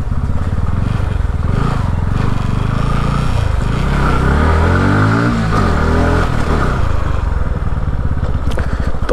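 A Bajaj NS200 motorcycle riding off-road over a badly broken road, its engine droning loud and steady close by with pitch rising and falling as the throttle shifts.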